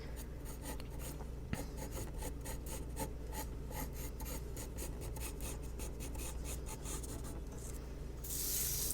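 A sharp pastel pencil draws short, light hair strokes on paper for an eye drawing, producing faint, close, rhythmic scratchy rasps in quick repeated bursts with no talking.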